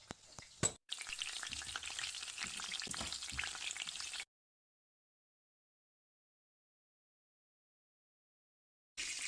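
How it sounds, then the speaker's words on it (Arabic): Small zucchini cubes and onion sizzling in a ladle of oil, a steady close crackle after a couple of clattering knocks, then cutting to silence before the sizzle briefly returns. "نحمروهم في شوية زيت، مغرفة زيت وبصلة"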